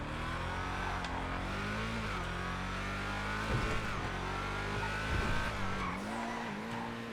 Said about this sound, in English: A throaty V8 indeed.